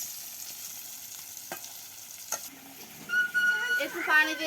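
Pangas fish pieces frying hard with spices in hot oil in a pan, a steady close sizzle broken by a couple of sharp stirring scrapes and livelier spattering toward the end, with no talk.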